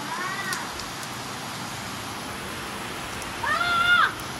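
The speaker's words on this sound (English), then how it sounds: "it's raining" Steady rain hisses in the background, broad and constant, with a couple of brief higher-pitched voice-like sounds over it.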